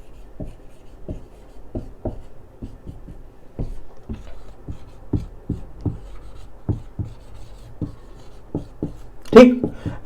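Chalk tapping and scraping as a teacher writes a heading on a classroom board, a steady series of short sharp strokes with a louder knock near the end.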